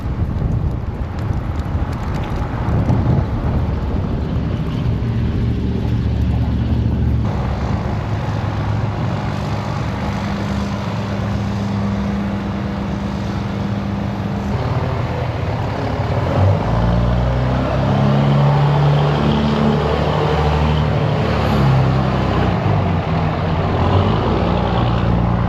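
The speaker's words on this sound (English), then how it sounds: "as you can hear, a lot of truck noise" Heavy trucks rumble along a road beside a campground in brutal cold, a constant low drone with passing swells and wind buffeting the microphone throughout.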